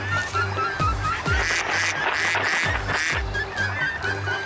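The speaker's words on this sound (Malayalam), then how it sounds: "ഒരു താറാവ് ഒത്തിരി താറാവായോ?" Several ducks quacking in a steady run of repeated calls, close and fairly loud, with a busy outdoor background hum; no talking.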